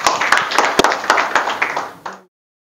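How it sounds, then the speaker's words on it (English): A class claps for a presenting student group, a brief burst of sharp, uneven hand claps from a modest number of people that quickly thins out and stops. "So please give them another round of applause."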